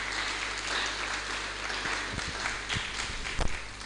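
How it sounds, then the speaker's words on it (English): An audience applauds at an Internet Society Ghana chapter event held at a senior high school. The clapping is steady and fairly quiet and lasts for a few seconds. "Let's clap for ourselves."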